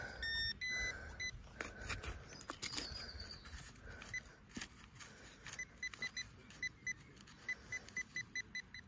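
A metal detector sweeps a field at a detecting weekend in Wales near a castle, giving a run of short, high, evenly spaced beeps over a buried target, close and clear above outdoor rustling.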